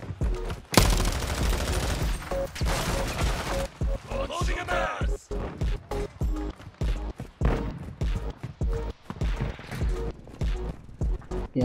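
Rapid bursts of gunfire from Call of Duty: Modern Warfare 2 gameplay, loud and near, come in repeated volleys with short gaps across the whole stretch.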